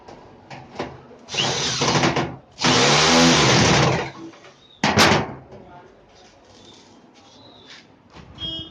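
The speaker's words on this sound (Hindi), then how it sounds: "बोल्ट घूम रही है।" A bolt is turned with a power tool while a grill is fitted to an air cooler, giving two sustained whirring bursts of a few seconds each and a shorter burst, close and loud, with faint talk around them.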